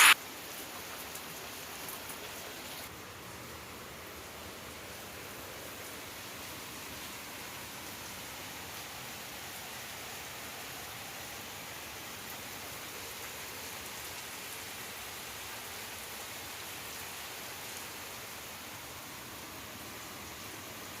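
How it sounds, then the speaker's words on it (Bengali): Heavy monsoon-style downpour during a family outing, a dense, continuous hiss of rain striking surfaces that stays steady and fairly distant for the whole stretch, with no voices. "খুব জোরে বৃষ্টি নেমেছে এখন।"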